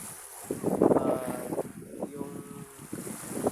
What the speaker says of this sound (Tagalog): yung hampas ng tubig